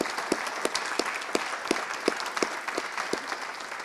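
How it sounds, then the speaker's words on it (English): Applause from an audience at a university media scholarship award ceremony, a scattered patter of claps with distinct sharp hand strikes standing out over a steady crowd wash, moderately loud and sustained throughout. "let's give a round of applause for Maria Nevins"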